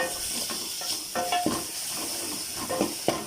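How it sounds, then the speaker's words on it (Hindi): Ginger garlic paste frying with golden onions in a pan, a continuous sizzle broken by several distinct stirring scrapes and clinks from a spoon. "अब 1 चम्मच अदरक लहसुन का पेस्ट हमने डाल लिया। अब इसको अच्छी तरह हम भूनेंगे"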